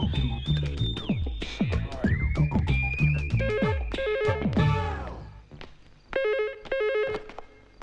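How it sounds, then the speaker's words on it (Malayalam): A telephone rings with repeated electronic trilling bursts while someone calls a doctor, loud and close amid a busy comedic scene with thumps and clatter. "ഡോക്ടർ മോഹനേന്ദ്രനെ വിളിക്കേ"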